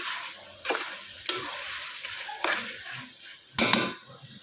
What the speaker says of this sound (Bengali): তো এখন আমি কিছু মাংসটাও দিয়ে দিচ্ছি